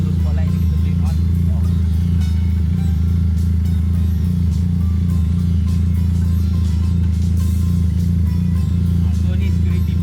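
A Benelli 502C motorcycle idles with a steady low engine drone close by, running continuously the whole time, with faint clatter and some background sound over it.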